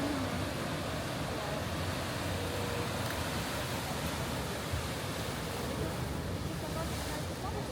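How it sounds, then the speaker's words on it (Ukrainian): Ocean surf at Santa Cruz on a calm day with high waves, a continuous broad wash and rumble of breaking water, steady and fairly distant, with faint wind on the microphone. "І вітру такого нема, але ну при цьому хвилі високі."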